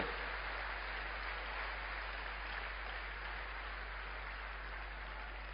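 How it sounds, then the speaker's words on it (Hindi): Steady applause from an auditorium crowd in Science City, Kolkata, a dense unbroken wash of clapping that stays even and moderately distant throughout, with no voices over it. "एक बार जोरदार तालियों से स्वागत कीजिए उनकी इस मार्वेलस स्पीच को"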